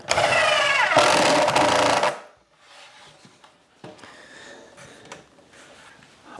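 A power driver whirs loudly for about two seconds, driving a screw into the wood of a simple DIY bird feeder. Quiet scattered clicks and handling noises follow.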